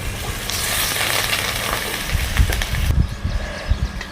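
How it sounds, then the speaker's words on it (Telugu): Curry leaves and tomato pieces are stirred into a sizzling spice paste for a village-style Nellore fish curry with raw mango, a steady frying hiss over low scraping and bumping stir sounds that grow heavier toward the end. "కరివేపాకుతో పాటు టమోటా ముక్కలు అయితే వేసుకొని బాగా కలుపుకుందాం"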